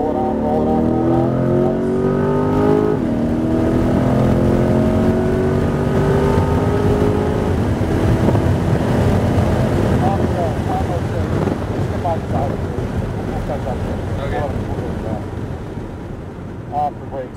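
A Corvette C8 Z51 accelerates on the Putnam Park race track, its engine rising loudly in pitch through the gears with heavy wind roar, then easing off as the throttle lifts. A voice talks over it intermittently.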